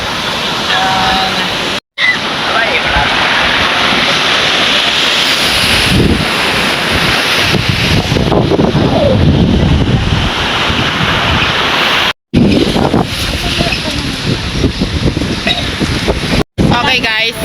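Sea waves roll in at a beach resort in Tinakubtakuban, surf crashing loudly and continuously with heavy wind buffeting the microphone, the roar interrupted by a couple of brief dropouts.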